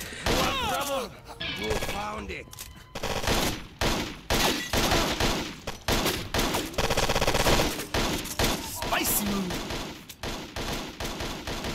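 Gunfire from an infinite-ammo gun in the video game Total Overdose: dense, sustained bursts and rapid shots fill most of the stretch, with loud hits and crashes mixed in and someone talking over the action.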